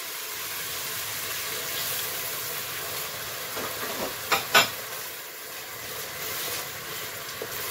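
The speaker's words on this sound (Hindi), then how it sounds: "अदरक लहसुन को थोड़ा सा भून लिया, और अब मैं इसके अंदर ये टमाटर डाल रही हूँ।" Tomatoes dropped into a pan of sautéed ginger and garlic for a student biryani, giving a steady loud sizzle throughout with a couple of brief stirring clacks midway.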